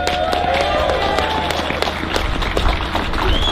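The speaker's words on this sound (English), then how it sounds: "another round of applause" Crowd applause at a farmers' protest in London, steady outdoor clapping from a gathered crowd with sharp individual claps standing out over a continuous rumble, lasting throughout.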